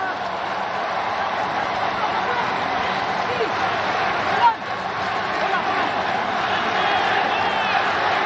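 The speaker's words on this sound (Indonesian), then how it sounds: "Irfan Jaya mendengar sorak-sorai para supporter Indonesia yang datang ke Stadion Nasional Singapura di Kallang." Indonesian football supporters cheer at Singapore's National Stadium in Kallang during an Indonesia versus Malaysia match, a dense steady roar of crowd noise with a brief swell midway, a commentator talking over it.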